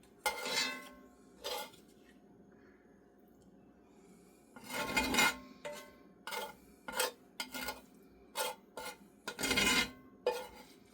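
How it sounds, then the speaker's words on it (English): A utensil scrapes and bangs against a dish while Appalachian cornbread stuffing is mixed, with clusters of loud rasping scrapes and knocks in an uneven rhythm, close up, separated by brief quiet gaps. "Sorry about the scraping and the noise."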